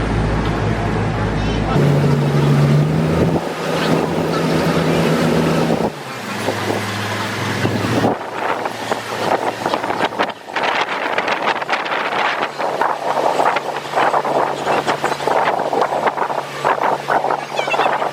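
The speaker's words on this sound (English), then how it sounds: "We are getting back on the tender boat to go back to our ship." A cruise ship tender boat's engine drones steadily off Georgetown, Grand Cayman while wind buffets the microphone, with talk mixed in and a rougher, louder rush of motion in the latter half.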